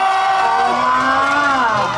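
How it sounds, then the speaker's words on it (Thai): Supporters at a Thai god-and-goddess pageant in Lampang cheer and shout loudly for contestant number 71, a dense wall of crowd voices with high, sustained whoops. "กองเชียร์น้ำหนึ่งอยู่ไหนกองเสียงให้กับน้ำหนึ่งเลยค่ะ"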